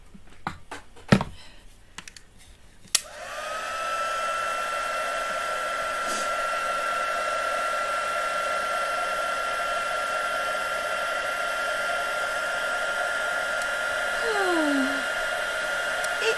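After a few clicks and taps, a heat tool switches on and blows with a steady whirring hiss for a long stretch while it embosses a snowflake in a craft session.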